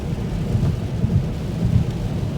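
Steady rain and rumbling low wash during a truck's first highway drive, continuous and fairly loud with surging pulses, no talk.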